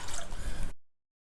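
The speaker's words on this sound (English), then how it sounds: "Add it to a pressure cooker, and again I am adding 1 cup of water to this." Water is poured onto soaked dal in a pressure cooker, a short wet splashing burst lasting under a second that stops abruptly.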